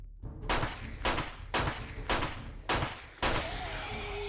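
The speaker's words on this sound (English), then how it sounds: "Move, I'm trying to shoot the bear." Gunfire aimed at a bear in the video game 7 Days to Die, six loud, sharp shots spaced about half a second apart, each with a short decaying tail, the last ringing out longer.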